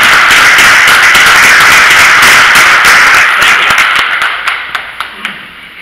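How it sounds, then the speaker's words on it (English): An audience at a ham radio club meeting applauds a presenter with a dense burst of clapping that thins out into a few scattered claps at the end. "So we can give him a round of applause."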